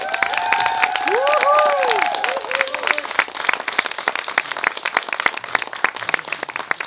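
Wedding guests applaud the newlyweds with a burst of clapping and cheering, while whistles or whoops rise over the crowd early on, then scattered claps continue close by.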